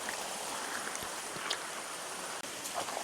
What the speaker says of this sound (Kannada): ನೀರ್ ಫೋರ್ಸ್ ನೋಡು ನೀರು ಹೇಗೆ ಬರ್ತೈತೆ